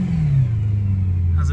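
BMW E92 M3 V8 with just a muffler in the back box revs loudly and close, a deep droning engine note that sweeps down and settles into a steady rumble, alone without talk.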